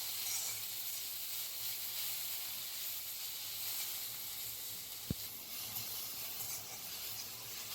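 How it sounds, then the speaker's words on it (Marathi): Tomatoes softening with browned onions in a kadhai, a soft continuous hiss and low sizzle with a single small tap midway, quiet and unbroken by talk. "त्यात आपण टोमॅटो टाकूया। टोमॅटो पण असं परतून घेऊया थोडा कांद्यामध्ये"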